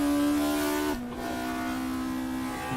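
A VW Scirocco touring car in a racing video game at Brands Hatch holds a loud, steady engine drone at full throttle, its pitch dipping briefly about a second in before settling into a constant buzz.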